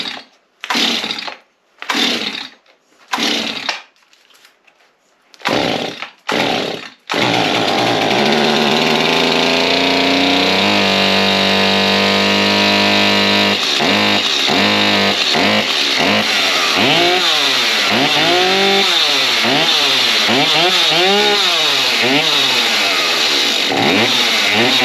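A Stihl 251 chainsaw is pulled several times in short bursts with pauses, then fires and keeps running loud and close, its engine revving up and down in repeated swells as it settles.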